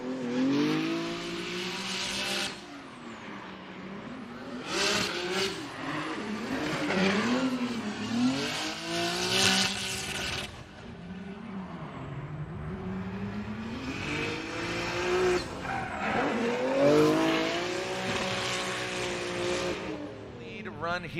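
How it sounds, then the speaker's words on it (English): VR Power NOS Energy Drink Nissan Z drift car on GT Radials at a Formula Drift event in Atlanta, engine revving up and down with squealing tires, heard under continuous commentary. "let's listen to this VR Power NOS Energy Drink Nissan Z on GT Radials"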